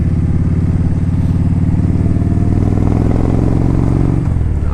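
A 2013 Kawasaki Vaquero motorcycle engine runs steadily, a loud close deep rumbling idle with a throbbing low-pitched drone that shifts slightly near the end, no voices.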